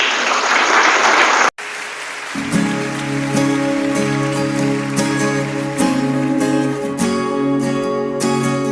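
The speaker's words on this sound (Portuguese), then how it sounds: "uma salva de palmas para Jesus" A brief burst of noise gives way to loud, sustained applause from a crowd, with instrumental music swelling underneath.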